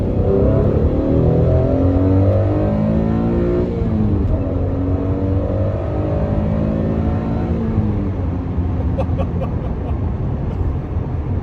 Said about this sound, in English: There's a standard induction noise.